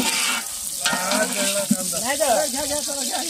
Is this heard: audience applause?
no